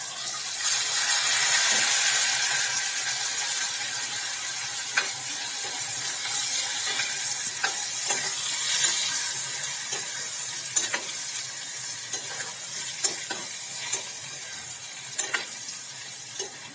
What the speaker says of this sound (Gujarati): તેની અંદર આપણે જે કટિંગ કરીને રાખેલું છે તે તુંબડી અને કૂણી કાકડીને અંદર ઉમેરી દઈએ।